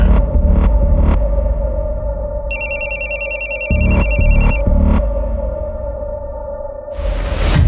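A telephone rings with a repeating electronic trill over a steady low hum, the rings coming in short bursts before a sudden hiss at the end.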